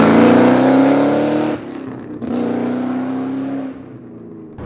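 Terminator Cobra engine roaring loud and close as the car accelerates, a rising throaty drone that eases off briefly mid-way before pulling again and fading off-throttle.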